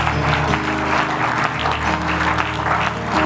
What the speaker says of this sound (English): Can we clap our hands to the Lord today?